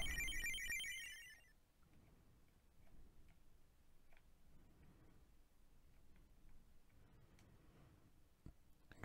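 A phone alert triggered by a home security door sensor, a bright, rapidly repeating electronic ringtone chirp lasting about a second and a half, followed by quiet room noise.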